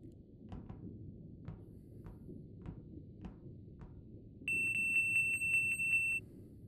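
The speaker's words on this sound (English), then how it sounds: "It now just goes beep when I press E." An in-game device in Shadows of Kepler gives a sharp, steady electronic beep lasting under two seconds, preceded by a series of soft taps over a low ambient hum.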